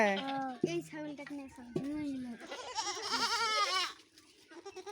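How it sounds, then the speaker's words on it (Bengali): Goats on a family farm bleating close by, several quavering calls one after another, with a voice and other talk in between. "অনেক ছাগল তোমাদের"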